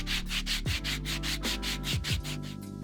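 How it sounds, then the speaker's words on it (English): Steady rhythmic rasping of sandpaper scrubbing back and forth over hard 3D-printed plastic parts, close and continuous, with a few faint low knocks. "I'm going to take some sandpaper and file that down"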